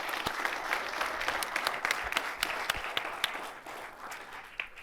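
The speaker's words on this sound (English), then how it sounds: "Give them a huge round of applause." An audience at a real estate talk gives a round of applause, soft and distant, a thick patter of many hands with a few sharper claps standing out, fading slightly toward the end.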